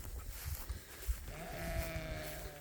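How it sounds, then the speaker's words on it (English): Ewes on a hay farm bleating, a drawn-out wavering call after about a second, heard over low thumps and shuffling of the flock moving nearby. "imagine the mama sheep are not too excited to move to a new row"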